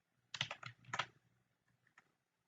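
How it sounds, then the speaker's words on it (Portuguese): A computer keyboard shortcut, Ctrl C, struck as a quick pair of close, crisp keystroke clusters followed by a faint tap, with no voice present. "deixa eu fazer um Ctrl C aqui, é mais fácil."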